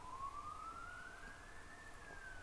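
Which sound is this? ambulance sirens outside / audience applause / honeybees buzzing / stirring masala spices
ambulance sirens outside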